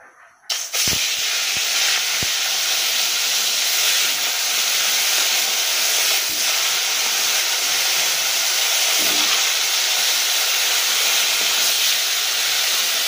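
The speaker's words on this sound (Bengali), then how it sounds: "মাছগুলো তেলে ছেড়ে দেবো একটা একটা করে" Loud, steady hiss of catla fish pieces frying in hot oil, starting abruptly after a brief quiet moment and continuing evenly with a few faint clicks.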